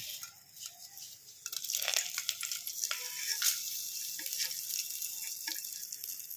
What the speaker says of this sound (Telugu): ఇప్పుడు ముందుగా మనం లవంగాలు, ఈ మసాలాను మనం అందులో నూనెలో వేసుకోవాలి